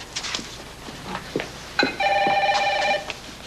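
A telephone rings in a room, an electronic trilling bell pulsing for about a second over a busy background of faint voices and movement.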